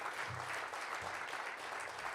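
An audience at an awards ceremony applauds in a steady, dense wash of clapping that stays even and loud throughout, with no voices over it.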